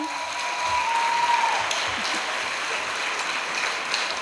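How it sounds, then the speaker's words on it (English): Sustained audience applause for candidates at a political forum, an even, full-room clapping that stays steady with a faint tone running underneath. "I want to have another round of applause for our candidates tonight for coming."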